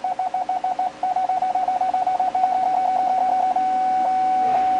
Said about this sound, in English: This is our first set of beeps for the backup for the parking sensors.